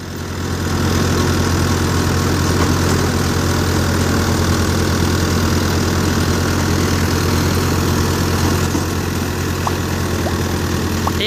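A loud, steady tractor engine drones on without pause while running a Multi Malwa thresher, its deep rumble joined by a constant mechanical hum and no voices.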